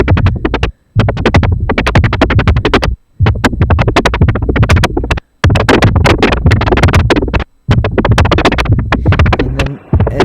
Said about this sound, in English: Faster clock gets more spikes.